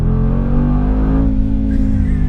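A 2019 Mercedes-AMG G63 G-Wagon, set in Sport Plus mode, accelerates on the highway with a loud, steady, deep engine drone that holds throughout.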